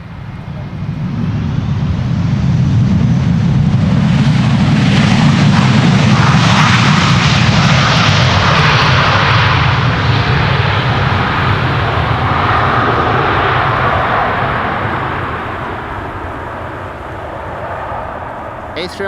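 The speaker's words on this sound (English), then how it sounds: "A300-600 DHL coming in from Madrid, going to the wrong runway sadly." A 1992 DHL Airbus A300-600 cargo jet arrives from Madrid to land at Schiphol Airport, its engines roaring loud and close in a long sustained swell that fades toward the end, while someone talks over it.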